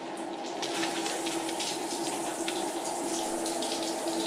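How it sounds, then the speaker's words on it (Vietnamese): Water runs steadily from a shower head, a loud, continuous spray and hiss with no talk over it. "cái vòi sen này nó hơi phức tạp"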